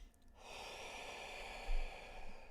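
A long, steady breath drawn in and let out during guided breathing, heard close as a continuous airy rush with a slight swell toward the end.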